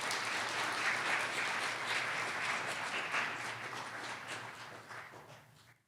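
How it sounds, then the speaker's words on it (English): An audience at an afternoon talk gives sustained, dense applause at moderate distance, holding steady before fading out toward the end. "Everyone, please give a round of applause for Mr. Carl Wilkens."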